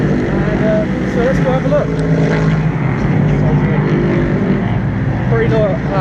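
Le Mans prototype race cars run at Silverstone during the 6 Hours race weekend, making a loud, continuous engine roar that fills the whole stretch while someone talks briefly over it.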